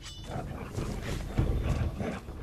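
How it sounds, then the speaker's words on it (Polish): Wolves growling in the fantasy game Risen, a rough, continuous low rumbling snarl, close and fairly loud, swelling slightly midway and rolling on without pause. "Coś tu słyszę, jakieś wilki znowu."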